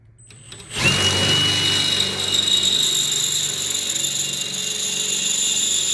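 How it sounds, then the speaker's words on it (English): A power drill boring a 3/8 inch hole while installing a fridge slide mount starts abruptly after a quiet moment, then whines steadily and loudly for several seconds with a constant high motor pitch. "we are going to start to drill with our 3/8 hole"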